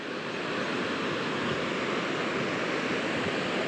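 Overflowing water pours and rushes in a steady, dense, hissing flow up close, unbroken for the whole stretch.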